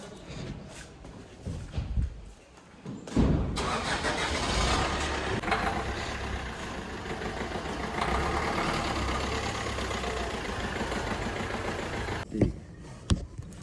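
A car engine cranks and catches, then settles into a steady, close rumble of idling before cutting off near the end.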